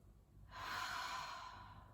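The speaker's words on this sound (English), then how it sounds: "Gradually deepening the breath" A slow, deep breath drawn in during a calm family yoga session, soft and close, swelling after a quiet start and then gradually fading, with no talk.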